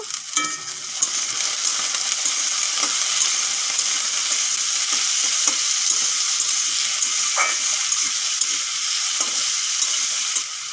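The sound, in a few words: frying chopped potatoes with onions in oil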